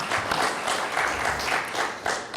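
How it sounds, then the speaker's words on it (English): Steady audience applause at a county candidate forum, many hands clapping together in a continuous wash of sound without a break. "one more round of applause as well."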